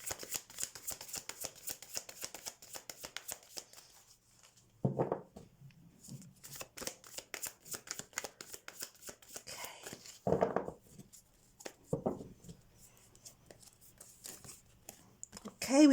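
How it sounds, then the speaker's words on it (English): Tarot cards are shuffled rapidly and steadily up close, a dense stream of crisp riffling flicks with a few heavier taps and rustles as the deck is handled, with someone speaking briefly in between. "Let's shuffle the cards for you and let's have a look what's coming up"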